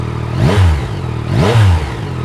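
A 2025 Yamaha R9 motorcycle engine revving twice while idling, each blip rising and falling in pitch, fairly close and loud with a quiet idle between.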